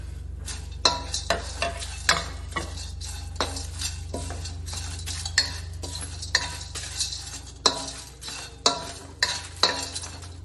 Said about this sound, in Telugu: బిర్యానీ సామాన్లన్నీ దీంట్లో ఫ్రై చేస్తున్నాము